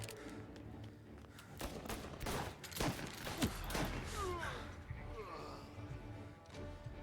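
Shotgun blasts ring out in a 1930s gangster shootout in the game Mafia, several heavy reports in quick succession mixed with crashes and a voice speaking over the action.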